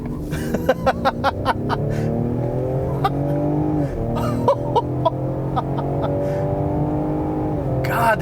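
2020 Ford Explorer ST engine accelerating as heard from inside the cabin, a rising engine drone through repeated gear changes with short sharp clicks and bumps, under someone talking.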